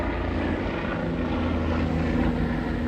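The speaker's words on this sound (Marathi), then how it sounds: "हे आपल्या इंडियन आर्मीचं चाललो असेल हेलिकॉप्टर." An Indian Army helicopter passes overhead near an event venue, its steady, loud rotor and engine drone filling the air throughout with a low thrumming pulse and no voices.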